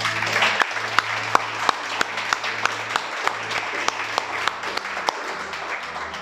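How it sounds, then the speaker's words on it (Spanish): Church congregation applause, steady clapping with a few sharp, distinct claps standing out over a low hum, continuing for several seconds without speech. "Vamos a darle un aplauso a nuestro Elohim."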